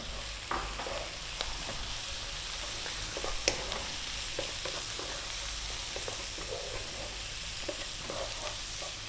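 Chili, cumin, coriander and turmeric powders sizzle steadily in a hot pan for a green bean curry, a continuous close frying hiss broken by a few soft stirring scrapes.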